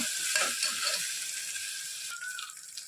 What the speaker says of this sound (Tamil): நல்லா கை எடுக்காமல் கிண்டிக்கிட்டே இருக்கணும்.